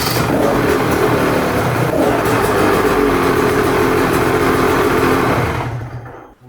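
A KTM motorcycle engine converted from 125 to 150 with throttle-body injection runs steadily and loudly at close range, holding a constant drone before dying away in the last second.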